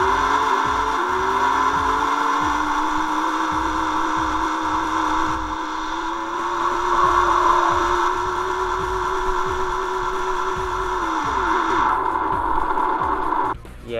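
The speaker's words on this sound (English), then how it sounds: "It's just some like unrealistic, fake, irritating engine sound" A steady, synthetic-sounding car engine drone from the Hot Wheels Velocity X video game holds one pitch with a slight rise, continuous and loud, then cuts off abruptly near the end.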